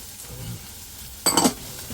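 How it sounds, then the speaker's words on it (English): Onions and garlic sauté in a tablespoon of oil in a pan, giving a faint, low sizzle with a short, brighter burst of stirring and crackle partway through. "At the same time, I'm going to saute the onions and the garlic for the cabbage roll filling itself."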